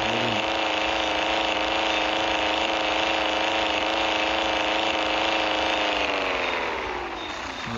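A car engine in a gangster crime video game runs with a steady, loud, droning hum at constant pitch, then eases slightly near the end. No one speaks over it.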